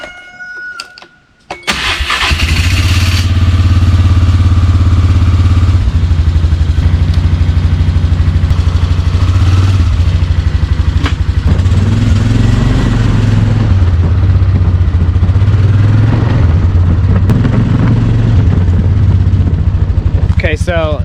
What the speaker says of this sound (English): I'm gonna try to use the four-wheeler to pull it.